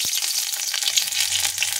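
Whole garlic cloves sizzle and fry in a little oil in a kadai, a steady close hiss running unbroken through the moment with faint stirring.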